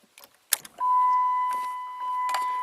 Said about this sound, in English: You hear the blower motor working.